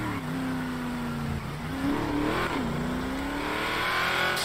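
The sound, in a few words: Dodge Charger Hellcat cars driving past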